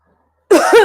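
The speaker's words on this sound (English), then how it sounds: "so that I don't clear my throat during this whole thing" A single short, close throat clearing, two quick rasping pushes after a moment of silence.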